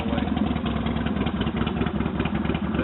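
A 1998 Titan Roadrunner touring motorcycle, its engine top end recently rebuilt, idles close by with a steady, loud, lumpy rumble and light mechanical clatter.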